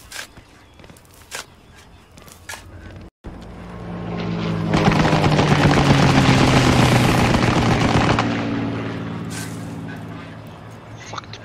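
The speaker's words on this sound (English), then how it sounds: "the plane noises are so scary" A propeller aircraft roars low overhead in a World War II online shooter, swelling from quiet to a loud, droning pass that peaks midway and then fades, with scattered gunfire and movement sounds around it.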